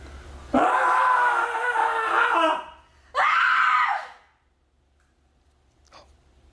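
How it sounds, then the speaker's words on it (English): Screams inside a haunted house attraction: two long, loud wailing screams, the first about two seconds and the second shorter after a brief pause, followed by near silence and a faint distant sound. "Scream again. Scream again."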